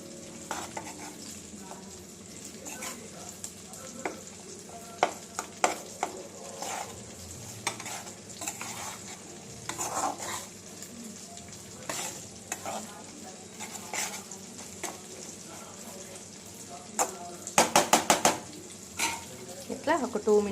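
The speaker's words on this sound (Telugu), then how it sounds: "మొత్తం ఇట్లా నూనెలో, ఆయిల్లో మొత్తం ఇట్లా వేయించేసుకోండి." Bitter gourd with roasted gram spice powder frying in oil, a low sizzle under frequent scraping and clinking of a spoon against the pan, with a quick burst of rapid stirring near the end.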